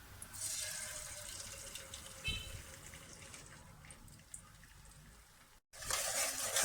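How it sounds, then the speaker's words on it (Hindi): Three eggs frying in two spoons of oil in a kadhai, a faint steady sizzle with occasional stirring scrapes, ending in a burst of louder hissing. "तो अंडों को हमने इस तरह से अच्छी तरह से फ्राई कर लेना है।"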